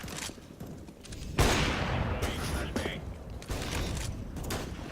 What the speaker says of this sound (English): He fires through the wall there.